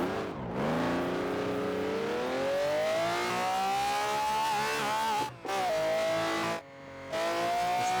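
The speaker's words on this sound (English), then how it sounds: "It's like a completely different sound from any other engine." A Scion FR-S car engine with a swapped-in V12 roars loudly and climbs steadily in pitch as it accelerates, with brief gear-shift dips before revving up again, heard close and alone.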